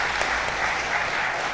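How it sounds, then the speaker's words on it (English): An audience claps in a brief, steady burst of applause, loud and close, with no talking over it. "Can we get a round of applause?"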